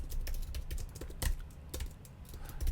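Fingers tapping a computer keyboard while HTML code is entered, a quiet, irregular run of close clicks and clacks with short pauses between bursts, no voices.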